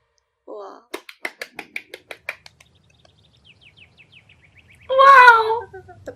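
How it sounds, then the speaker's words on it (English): Bird chirps and trills from a music video sound as a quick series of short tweets followed by a longer warbling call. A voice reacting over it sounds like speech. "Wow! The bird sounds."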